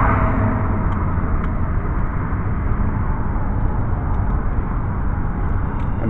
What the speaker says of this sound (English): all this traffic that you see